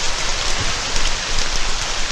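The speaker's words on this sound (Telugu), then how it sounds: "వర్షం వెలిసిన తర్వాత రావచ్చు కదా" Heavy rain falls in a dense, even hiss, close and continuous, with no voices.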